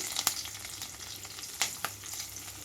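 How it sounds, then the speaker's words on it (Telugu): Two sprigs of curry leaves and a few slit green chillies fry in hot oil for an egg gravy curry, giving a quiet, steady sizzle broken by a few sharp crackles and pops. "ఈ ఆయిల్ కూడా హీట్ అయిన వెంటనే రెండు రెమ్మల కరివేపాకు అలాగే రెండు మూడు పచ్చిమిరపకాయలని నిలువుగా కట్ చేసి వేసుకుంటున్నాను"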